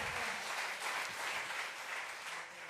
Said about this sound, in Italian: noi veramente ringraziamo qui, adesso e ora, con un grande applauso i nostri ospiti